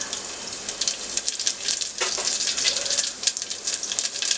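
Cumin seeds and garlic crackle and sizzle in a spoonful of hot oil as tempering for masoor dal, a steady close hissing fry with small pops throughout.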